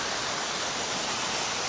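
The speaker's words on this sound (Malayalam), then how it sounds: "കണ്ടേ ബാക്കിൽ വെള്ളച്ചാട്ടം വരുന്നത്" A waterfall spills down from above near a cave site in Malappuram, Kerala, producing a steady, loud broadband rush of water that fills the whole moment with no talking.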